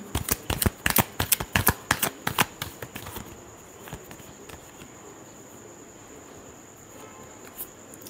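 Tarot cards shuffled in rapid bursts of crisp, close riffling clicks during the first three seconds, then stopping, with only faint handling noise and quiet room hiss afterwards.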